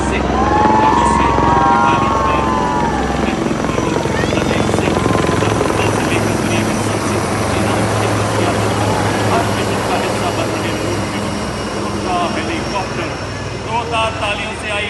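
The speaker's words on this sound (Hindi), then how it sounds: "सबसे आगे एडवांस लाइट हेलीकॉप्टर ध्रुव लेफ्टिनेंट कर्नल अरुण पांडे, उसके पीछे advance light helicopter WSI Rudra" Advanced Light Helicopters Dhruv and Rudra fly past at a Republic Day parade with a loud, continuous rotor thump and engine whine, while an announcer talks over the noise throughout.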